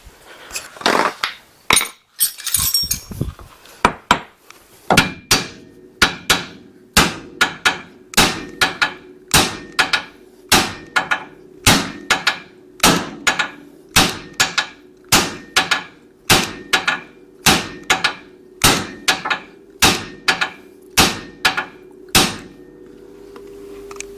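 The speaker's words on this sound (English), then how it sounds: "Bigger hammer." Steady, forceful hammer blows ring out one after another in a regular rhythm, metallic and close, with a few quicker strikes at the start, while fitting front lowering springs on a 1967 Chevelle.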